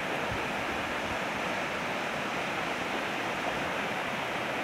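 Heavy rain sends water rushing past a roadside detour near Arapiraca, a dense, steady roar that stays constant and fairly loud throughout, with no one speaking over it.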